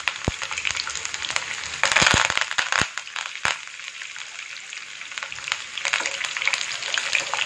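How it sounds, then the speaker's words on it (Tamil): Garlic frying in hot oil with a few curry leaves, for a tomato and red chilli pickle, gives a steady close sizzle with sharp crackles and pops scattered throughout, a louder flare of spitting in the middle, and no talking. "பூண்டு கொஞ்சம் லேசா ஃப்ரை ஆன உடனே எடுத்துறலாம்"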